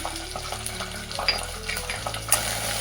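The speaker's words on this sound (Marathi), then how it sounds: "हा कढीपत्ता टाकून घेऊया आता ही लसण आल्याची पेस्ट ती पण टाकून छान परतून घ्यायचं" Curry leaves and garlic-ginger paste sauté in a hot pan for bread chutney with a moderate sizzle and frequent stirring scrapes and clinks against the pan, with a low hum underneath and no speech.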